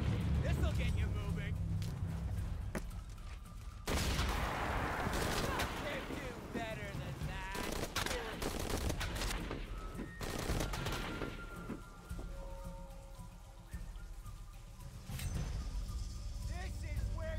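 Game gunfire on a beach in Shadow of the Tomb Raider comes in scattered bursts and single shots, some close and some farther off, mixed with engine-like rumble while a voice talks over the action.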